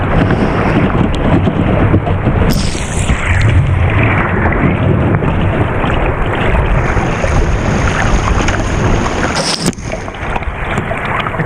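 Kayak moving upstream on a river, with a steady wash of water and strong wind buffeting the microphone throughout, loud and continuous with no talk.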